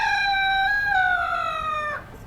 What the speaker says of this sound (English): Whenever you hear the rooster in the backdrop